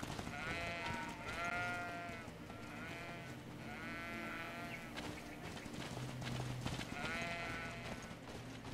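A flock of sheep in the video game GreedFall bleats repeatedly, with overlapping quavering calls rising every second or so over a steady low music bed and no voices.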